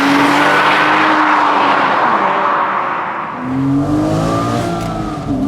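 Porsche 987 Boxster S with its 3.2-litre six-cylinder engine accelerating, a loud close exhaust note rising smoothly in pitch, dipping briefly at a gear change, then climbing again, no talking over it.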